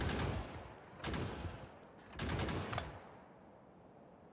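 Turrets in the video game Factorio shooting biters, three rapid clusters of gunfire a second apart, fairly quiet and with no talk, fading out at the end.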